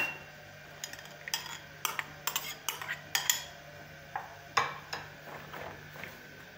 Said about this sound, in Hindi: ये अब हम अपनी सारी चीज़ों को मिक्स कर लेते हैं